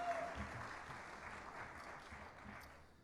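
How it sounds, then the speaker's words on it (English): A university Shark Tank audience applauds the judges, with steady, moderately distant clapping that holds throughout and slowly fades toward the end. "please give our judges one more big round of applause and say thank you to them for coming back."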